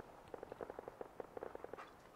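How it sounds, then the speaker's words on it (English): Distant gunfire in the wasteland of Fallout 4, a faint rapid string of small popping shots, roughly a dozen in quick irregular succession, far off and quiet. "I hear gunshots in the distance."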